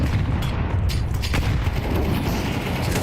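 Grenades go off during a Counter-Strike tournament match: dense, loud rumbling booms and crackling blasts fill the whole stretch with no pause.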